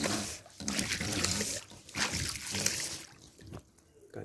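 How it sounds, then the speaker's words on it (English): A pool vacuum hose being pushed down into swimming pool water, producing bursts of sloshing, gurgling and splashing that rise and fade with each push, fairly close with no speech. "So I keep pulling the hose downwards in the water, down"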